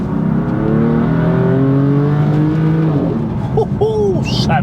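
A modified car engine revs hard through a throaty MPE performance exhaust, pitch climbing steadily, then burbles and crackles as the throttle drops; loud and close.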